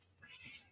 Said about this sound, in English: That sounds like my cat out there.